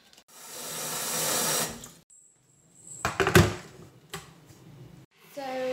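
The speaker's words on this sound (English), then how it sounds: "I'm gonna put a little bit of cold water into the beaker first, and then the boiling" Water pours steadily into a glass beaker for about two seconds in a home crystal-growing setup. Sharp clinks and knocks of glassware follow, and a voice is heard near the end.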